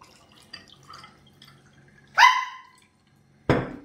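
A dog gives a single short, tonal bark, followed by a sharp burst of noise, after faint scattered clinks in a quiet room.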